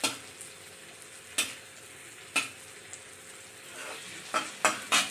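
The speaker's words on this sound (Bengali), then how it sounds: "মশলাটা ভাজা হয়ে গেছে, তেল ছেড়ে দিয়েছে।" Masala frying in oil in a pan, with a faint steady sizzle broken by a few sharp scrapes and clinks of a stirring spoon against the pan, growing busier toward the end.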